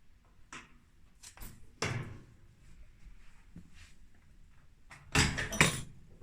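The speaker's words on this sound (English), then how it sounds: "I'm just about to open my kiln and see if the first of my tiles for the kitchen have biscuit fired okay" A ceramic kiln door is opened after a biscuit firing of kitchen tiles, giving a few scattered knocks and clunks, then a louder rattling scrape near the end, close up in an otherwise quiet room.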